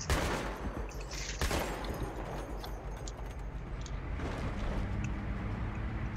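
Rapid automatic gunfire from a Battlefield 3 co-op mission rattles on continuously and loudly, with bursts layered over a dense battle din and no talking.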